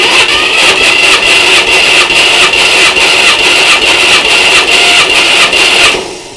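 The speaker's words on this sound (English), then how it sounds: "This thing's got some teeth missing off the flywheel, so the starter only catches once in a while." A starter motor cranks a car engine with the throttle held wide open during a compression test, its flywheel missing teeth; a steady, loud, rhythmic churning runs continuously for about six seconds, then stops abruptly.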